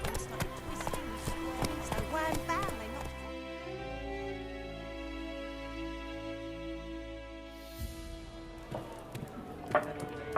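A horse gallops in The Witcher 3: Wild Hunt, steady clip-clopping hoofbeats with game music and ambience underneath, the pounding thinning out midway and then returning as a clatter near the end.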